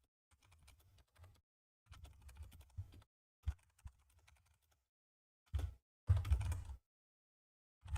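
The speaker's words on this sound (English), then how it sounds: "I'm just typing out this question to Zay" Someone types on a computer keyboard, with short irregular bursts of key clicks separated by quiet pauses, close and fairly soft.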